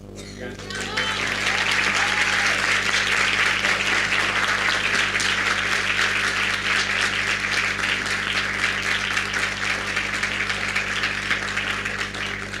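Steady, dense applause from a festival audience after a talk on therapeutic uses of psilocybin, rising quickly and holding loud and even for about twelve seconds over a low electrical hum.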